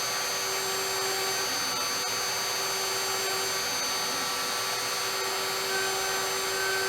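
A CNC router with a solid carbide 1/4-inch upcut spiral bit, spinning at 25,000 RPM and feeding at 30 inches per minute, cuts a wood inlay with a loud, steady whine that runs unbroken throughout.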